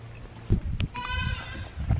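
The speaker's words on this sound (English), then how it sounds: "A goat thinks it's dying." A goat bleating loudly in a farm setting, separated from and out of sight of its mother; a wavering, harmonic cry rises around the middle, with thumps and low handling noise before and after.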